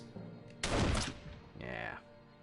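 Gunfire in the World War II game Warsaw comes as one sharp, loud burst of shots. A fainter shot follows, with a ringing tail over quiet background game sound.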